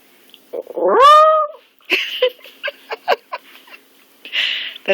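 A cat lets out one drawn-out rising and falling howl up close, then a run of short, sharp vocal bursts and a final rough cry.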